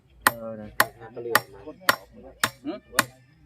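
A hammer strikes during assembly work at a groundwater well drilling site, six sharp, evenly spaced blows about half a second apart, close and loud, with faint ringing and rustle between them.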